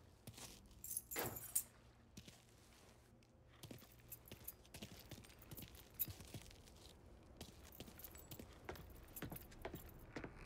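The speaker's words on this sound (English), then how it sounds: "Lincoln, pick up the keys." Keys jangle with a metallic clink as they are picked up in Mafia III, followed by scattered light clicks and soft shuffling over a low background hum.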